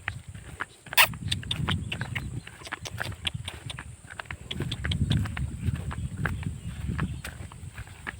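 Horses walk outdoors with faint, irregular hoof clip-clops spread across the clip, mixed with low rumbling and a sharp knock early on.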